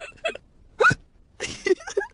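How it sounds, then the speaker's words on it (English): A cartoon piglet hiccups after drinking juice too quickly: a few short, sharp vocal hiccups spaced irregularly over two seconds, close and clear with no other sound. "George drank his juice too quickly, and now he has hiccups"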